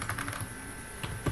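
Fingers tap out a short burst of typing on a computer keyboard, with quick, close clicks in an uneven rhythm, a pause, then a few more keystrokes.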